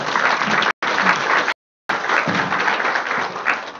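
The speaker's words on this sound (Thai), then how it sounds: "ขอเสียงปรบมือให้ด้วยนะครับ" An audience at an international zoo and wildlife seminar applauds after a presentation. Dense, sustained clapping fills the room, broken by two abrupt silent gaps, with a faint voice now and then underneath.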